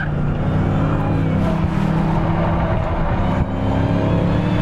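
A 2018 Dodge Challenger Hellcat Widebody driving on a race track, its engine a loud, continuous close drone with a steady pitch and barely any change in level.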